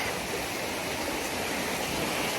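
Rushing water from a mountain brook along a trail, a steady broadband wash with no pauses, close by and fairly loud, with no voices over it.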